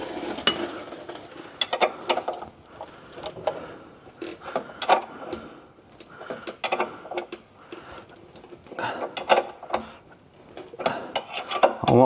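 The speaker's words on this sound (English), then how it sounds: "what we're doing now is just tightening up the lateral bolts" A wrench ratchets and metal scrapes in irregular bursts while the lateral bolts on a Subaru's rear suspension are tightened during a full refresh, close and moderately loud, with no talk.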